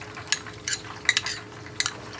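Ketchup being added with a spoon in a kitchen while making honey chicken: several light scraping clinks of the spoon against a bowl, spaced irregularly and close up.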